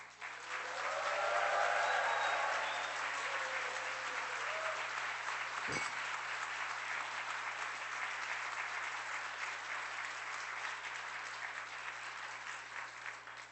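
A church congregation at a Sunday revival service bursts into sustained applause mixed with cheering, swelling early then holding as a steady broad clapping wash, with one sharp thud partway through and no talking.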